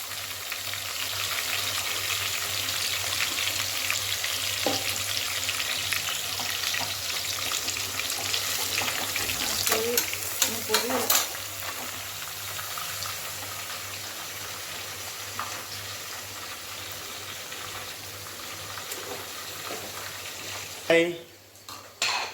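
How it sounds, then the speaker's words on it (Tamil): Onions and curry leaves fry in hot oil with a low continuous sizzle, occasional stirring scrapes and a few clinks of a metal spoon against the pan, ending with a louder clatter. "நம்ம எல்லாம் வெங்காயம் பொரியட்டும்"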